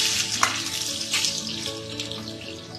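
Garlic sizzles and crackles steadily in a hot pan, a continuous frying hiss with occasional clinks, close and moderately loud.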